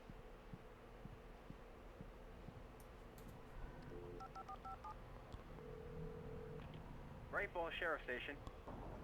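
Telephone dialing in the video game Alan Wake, a short run of faint keypad tones over a low game hum, followed by a louder cluster of rapid electronic beeps near the end.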